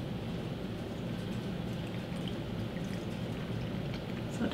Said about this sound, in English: you're gonna pour the brine until it just covers the peppers.